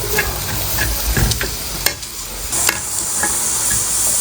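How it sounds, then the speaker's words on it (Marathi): Lentil and coriander filling for fried modak being stir-fried in a pan, a close, loud sizzle with scraping spatula strokes and a couple of sharp clacks against the pan. "यामध्ये कोथिंबीर हे आपण आता परतून घेऊ चांगली डाळ कच्ची राहणार नाही"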